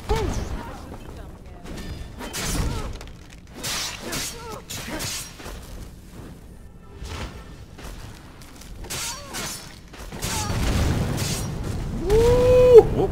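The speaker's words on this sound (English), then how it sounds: "What was that explosion?" A Skyrim explosion shows up as a broad, booming crash late in the passage, following several sharp impact bursts, with someone talking over the game sounds throughout.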